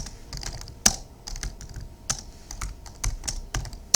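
Soft, steady clatter of computer keyboard keys in a quiet real estate office setting, irregular bursts of taps with brief pauses, close and gentle with no talk.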